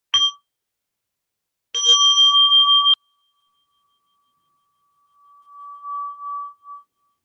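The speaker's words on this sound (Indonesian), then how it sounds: "terima kasih sudah ada bel" A mindfulness bell rings during an online meditation session, struck once briefly, then rung again for about a second, followed by a faint lingering tone that swells and fades after a pause.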